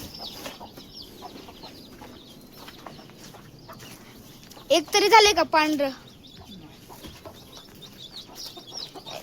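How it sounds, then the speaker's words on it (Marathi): On a farm, a hen with black chicks gives a short loud burst of clucking midway through, surrounded by quieter background noise and people talking. "कोंबडीला पिल्ले झालेत आपल्या."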